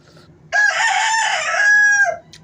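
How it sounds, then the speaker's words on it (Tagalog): A rooster crows once, loud and close, a drawn-out cock-a-doodle-doo lasting under two seconds against a quiet background. "maririnig nyo yung ano nang manok"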